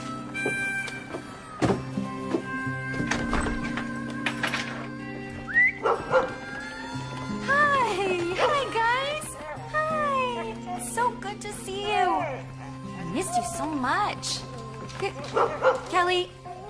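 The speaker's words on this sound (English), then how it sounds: "what are you barking at?" Dog barking and yipping with whimpers and howl-like calls, fairly close, in an indoor scene with steady background music and people talking.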